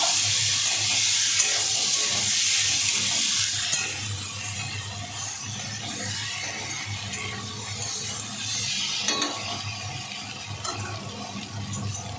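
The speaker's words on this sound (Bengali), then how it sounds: "এবার জল দিয়ে দেবো" Water poured into a cooking pan of pointed gourd in mustard paste with a little sour yogurt, giving a steady, close hiss of pouring and sizzling that runs unbroken for about twelve seconds, with no talking.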